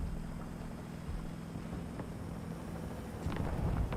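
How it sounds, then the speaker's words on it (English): A helicopter in the War Thunder video game flies nearby, giving a steady low rotor drone throughout that swells slightly louder toward the end, with brief higher engine whines over it. "It sounds like there's a chopper out there."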